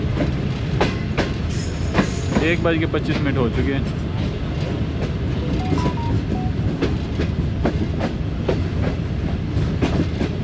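Tezgam passenger train running through the loop line at Chichawatni railway station in Pakistan, a steady loud rumble of wheels on rails with rhythmic clicks, with someone talking over it.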